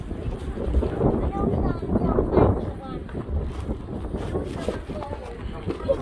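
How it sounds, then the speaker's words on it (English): Strong wind buffeting a microphone outdoors during an Easter egg hunt, a continuous rumbling roar throughout, with people talking underneath. "Uh-oh, the wind's strong."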